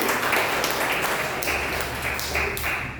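A church congregation applauding for Christ, sustained, dense clapping that swells in bursts and carries on without pause.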